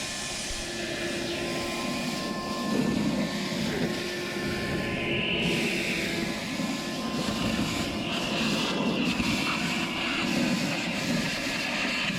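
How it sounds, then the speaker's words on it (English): A shop vac sucks leftover alfalfa seed out of seeder hoppers outdoors, giving a loud continuous roaring whoosh with shifting intensity and rattling as seed is drawn up the hose. "we just want to suck out the leftover seed from the hoppers with this here shop vac"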